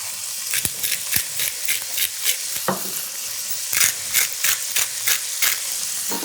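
Frozen peas, straight from the package, sizzle in a hot pan with a steady frying hiss, broken by a series of rhythmic scraping and stirring clicks throughout.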